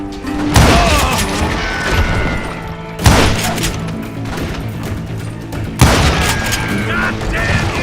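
Gunfire in the Western shooter game Call of Juarez Gunslinger: three loud, booming shots spaced a few seconds apart, each with a heavy thump and ringing tail, over game music and voices.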